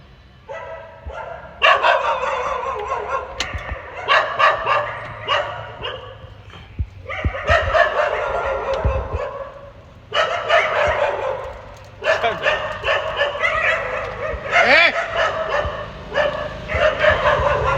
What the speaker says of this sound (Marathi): कुत्रे कसे भोकत आहेत